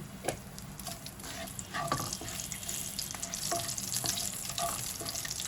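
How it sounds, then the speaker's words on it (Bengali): Dried red chillies and bay leaves sizzle in hot oil, a steady crackling fry with a few sharp pops, close and continuous with no talking. "তেল গরম হয়ে গেছে, এখানে আমি গোটা 3টে শুকনো লঙ্কা দিয়ে দিচ্ছি, একটু ফাটিয়ে দিয়েছি, আর 2টো তেজপাতা দিয়ে দিচ্ছি"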